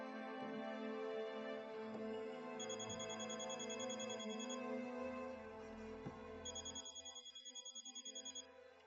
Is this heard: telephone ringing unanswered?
yes